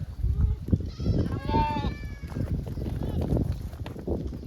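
A goat gives a couple of wavering bleats at close range over a rumbling, shuffling outdoor background, while someone talks nearby.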